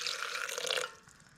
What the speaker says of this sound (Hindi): 3 चम्मच पानी डाल देती हूँ।